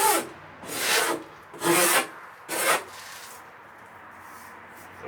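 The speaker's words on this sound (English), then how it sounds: "I think I'm going to take the file to it real light" A coarse hand file rasps along the edge of an excavator window in four slow strokes, a gritty scraping, each stroke separated by short quieter gaps.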